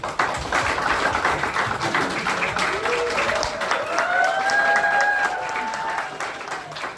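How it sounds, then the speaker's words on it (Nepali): Wedding guests applaud together through a noisy crowd, a dense steady patter of clapping with a voice talking over it. "हामी ताली बजाइदिनेछौँ"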